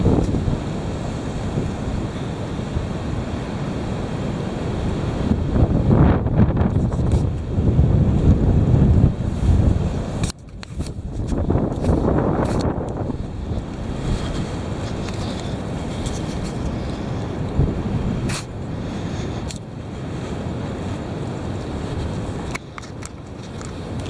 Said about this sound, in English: Sure is windy out here. Here it is, the heavy wind.